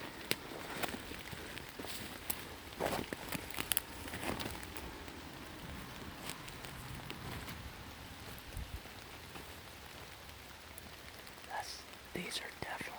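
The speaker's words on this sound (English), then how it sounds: "It's raining if you haven't noticed." Rain falls steadily by a river in the woods, a constant wet hiss with scattered sharper drops and occasional rustles, faint and diffuse throughout with no talk.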